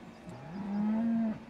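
A single cow moos in the Farming Simulator 17 farming game, one steady drawn-out low call lasting about a second, clear and close over a faint background hum.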